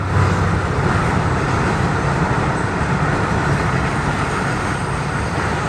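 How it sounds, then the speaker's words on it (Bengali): A freight train passes nearby, heard from a window as a loud, steady rumbling roar of rolling wagons that holds for the whole stretch without any voices. "মালগাড়ি"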